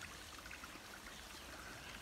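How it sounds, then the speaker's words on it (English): Small stream running beside a trail in the Ouachita Mountains, a continuous soft gurgle and trickle of water, fairly close and unbroken, with nothing else heard. "A nice little stream running here."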